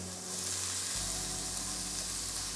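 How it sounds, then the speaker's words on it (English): Shrimp hit a hot skillet and the quiet background jumps into a loud, dense, steady sizzle that continues close up until the end. "In the same skillet, we're gonna take our shrimp and we're gonna add them."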